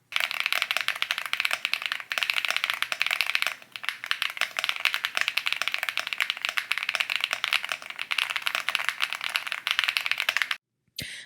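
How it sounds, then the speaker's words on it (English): Rapid, dense typing on an Epomaker Galaxy100 Lite mechanical keyboard goes on almost continuously, its thocky clacks soft and muffled, with a brief pause partway through and a stop at the end. "the keyboard is indeed thocky, it's somehow muffled in sound to not be annoying or loud to type"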